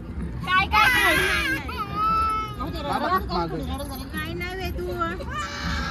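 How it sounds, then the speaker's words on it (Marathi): A baby cries in a busy setting during a hair-removal visit, the wails rising and falling amid background crowd chatter and nearby voices. "ती पण रडते. रडू द्या फक्त, हलवून नका देऊ."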